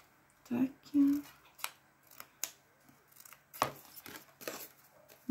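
Scissors cut paper for an explosion box craft in a series of sharp, close snips and crisp slices, with quiet talk in between.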